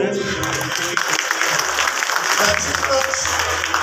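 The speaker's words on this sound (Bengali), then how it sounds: "প্রত্যেকের জন্য করতালি" Audience clapping at a trade union anniversary meeting in Bengal, sustained and fairly close, mixed with a busy hall murmur throughout.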